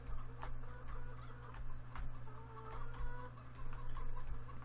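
Chickens cluck repeatedly in Farming Simulator 2013 over a steady low hum, with soft ticking sounds scattered throughout; fairly quiet, no talking.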